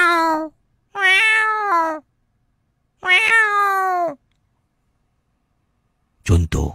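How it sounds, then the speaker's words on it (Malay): A cat meows three times close by, each call drawn out and clear with pauses between, followed by a brief burst of sound at the end; a voice says a single word. "Pukul 1 pagi dengar kucing mengiau."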